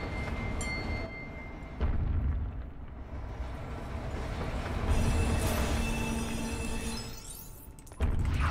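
Heavy rumbling train and rail noise in the Lego Batman video game as a train is pulled, with a steady loud roar, rattling surges and a metallic squeal near the end.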